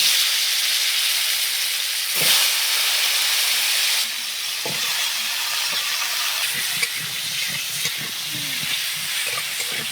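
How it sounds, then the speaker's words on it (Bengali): Oil with turmeric and salt sizzles steadily as potatoes fry until reddish, a continuous hiss with occasional crackles and pops, close up, with no talking. "লাল লাল করে ভেজে নেব আলুটা"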